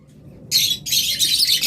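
A bonded pair of lovebirds squawks in sharp, harsh bursts, loud and close, the calls starting after a brief quiet moment and continuing with a short gap.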